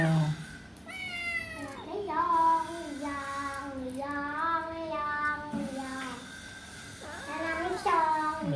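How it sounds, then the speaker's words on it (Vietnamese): A sad, small kitten meows repeatedly in long, wavering, high-pitched cries, close and fairly loud, with short pauses between calls. "Mèo mèo."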